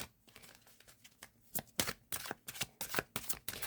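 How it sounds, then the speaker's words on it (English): Tarot cards being shuffled in the hand, a run of quick papery riffles and slaps that start soft and grow louder and more frequent, close and alone. "the shuffling is just crazy"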